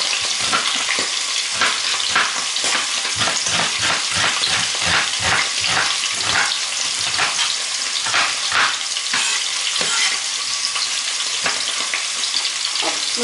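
Rabbit pieces and sliced onion frying in hot fat, a dense continuous sizzle and crackle with rapid pops and bursts of spitting, loud and close, running throughout without any talking.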